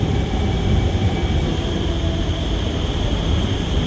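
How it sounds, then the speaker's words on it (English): A passenger train bound for Changi Airport runs with a loud, steady rumble and rushing roar, continuous and close with no pauses. "Ito na yung train na sasakyan ko."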